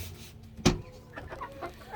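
Americana chickens cluck softly close by, a few short low clucks over a quiet farmyard background, with one sharp knock early on.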